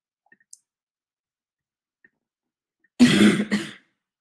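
A person coughs, a near, dry double burst that follows a few faint clicks in an otherwise quiet room.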